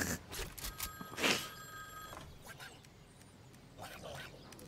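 In the Fortnite game, a telephone rings with a bright, bell-like electronic trill in a couple of short bursts, mixed with game noises and players chatting.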